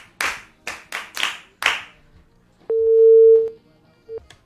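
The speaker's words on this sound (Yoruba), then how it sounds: "ẹ pàtẹ́wọ́ fún o" Children clap in a handful of sharp, separate claps during a children's radio programme, followed by a steady electronic tone and a short beep.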